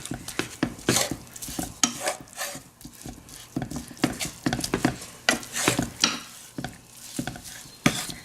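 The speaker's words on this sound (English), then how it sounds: "we're going to add our meat onto the stove. And you're going to break up the pieces of meat" Pulled pork meat fries in a little oil in a pan on the stove, with a soft sizzle under repeated scraping and clattering strokes of a utensil breaking up the pieces at an uneven rhythm.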